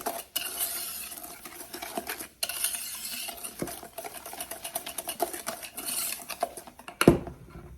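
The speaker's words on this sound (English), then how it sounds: "Then we are going to whisk this until it's well combined." A whisk beats a sweet homemade mustard mixture in a bowl, producing fast, continuous metallic rattling and clinking against the sides, close and steady with brief pauses.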